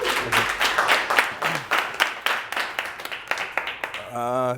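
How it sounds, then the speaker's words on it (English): Audience at a TechToks virtual reality tech talk giving a round of applause, a dense run of hand claps that tapers off near the end as a voice begins speaking. "let's give it a round of applause"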